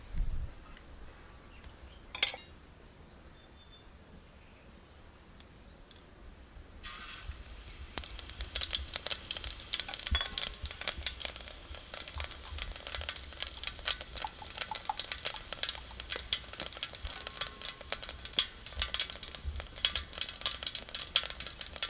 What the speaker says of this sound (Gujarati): હવે આપણે આમાં તેલ નાખી દઈએ આપણે જીરાનો વઘાર કરવાનો છે